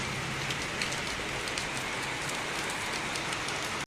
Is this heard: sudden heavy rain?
yes